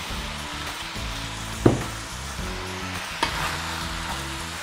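Cabbage lumpia filling being stirred in a frying pan gives a steady sizzle with scraping stir sounds and two sharper utensil knocks, close and alone.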